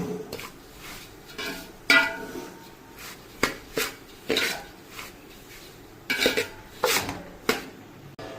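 Semolina is dry-roasted and stirred in a pan for Ukkirai prasadam, a temple offering. A metal spoon scrapes and clanks against the pan in an irregular rhythm of sharp knocks over a soft background hiss.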